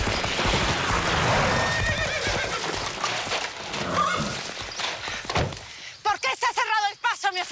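A horse's hooves clip-clop on the ground beneath a man and woman arguing in Spanish, then the horse gives a loud, wavering neigh near the end, close and clear.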